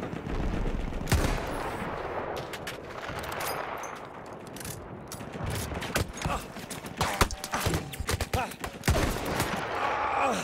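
Rapid bursts of gunfire in the Battlefield 1 campaign, an Australian fleet battle, with sharp repeated shots and automatic fire coming in clusters over a continuous rumbling battle bed throughout.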